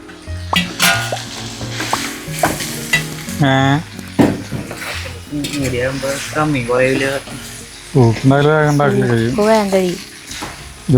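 Cooked noodles are stir-fried in a soup pan with a loud, close sizzle and scraping stirs. Voices talk over it for much of the time.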